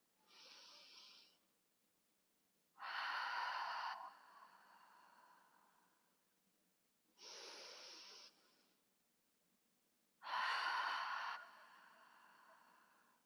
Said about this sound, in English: Inhale. Exhale. Open mouth exhale